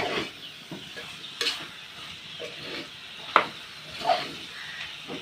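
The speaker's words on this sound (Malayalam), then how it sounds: "എൻ്റെ കുക്കർ ചെറുതായതുകൊണ്ടാണ് ഇളക്കാൻ പാട്." Potato and carrot masala curry stirred inside a small cooker: soft scraping and swishing of a spoon against the metal pot, with a few sharper knocks and clinks, close and fairly quiet.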